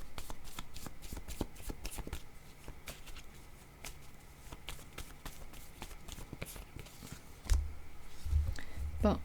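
Tarot cards being shuffled by hand, a steady papery riffling and flicking that runs throughout, with a few louder knocks near the end as the deck is handled.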